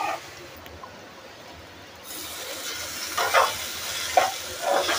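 Spices with garam masala and red chilli powder are sautéed in a kadai on low heat, a quiet hiss at first, then louder sizzling with a few scraping stirs close by.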